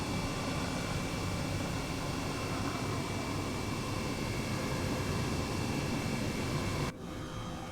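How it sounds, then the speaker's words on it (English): An Airbus H135 helicopter in Microsoft Flight Simulator 2020 flies out of Newcastle Airport, giving a loud, steady engine and rotor drone that suddenly drops to a quieter level near the end. "So this is the H135 Airbus Helicopter that I'm sure you're quite familiar with"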